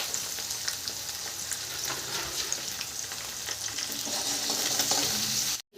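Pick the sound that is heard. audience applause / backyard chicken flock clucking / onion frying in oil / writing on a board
onion frying in oil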